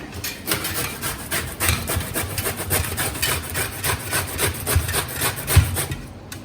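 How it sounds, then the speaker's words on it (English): Bottle gourd (lauki) being grated by hand, a steady rhythmic series of rasping strokes, about two per second, close and moderately loud throughout. "And she's grating the lauki."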